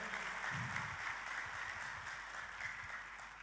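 A church congregation claps in praise, a soft, steady wash of distant applause that holds evenly for a few seconds, quiet and somewhat muffled.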